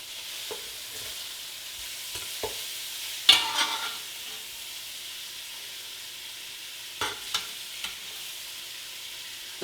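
Pork and sausage browning in a pan for Cajun jambalaya: a faint, steady sizzle, broken by a few sharp scraping stirs and clacks of a utensil against the pan.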